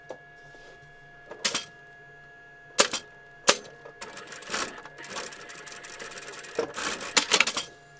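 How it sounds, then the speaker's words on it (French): A fabric needle book stitched on a sewing machine, starting with a few isolated clicks and short bursts before a longer stretch of steady motor-driven stitching, close, with a faint constant hum underneath. "Et puis vous allez tout simplement coudre ici."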